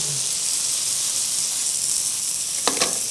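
Eggplant and vegetables fry and caramelize in a hot pan, giving a steady, loud hiss of sizzling, with a couple of brief stirring scrapes near the end.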